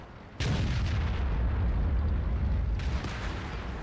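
Artillery fire in World of Tanks, a heavy boom at about 0.4 s that rolls into a sustained low rumble, with a second, softer burst near 2.8 s.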